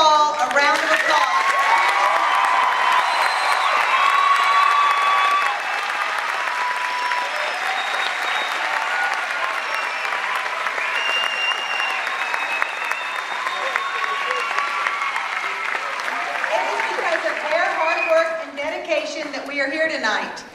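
A large audience applauds graduating seniors at a high school graduation ceremony, loud sustained clapping that fills the hall for about twenty seconds, with a voice and some cheering rising over it near the end.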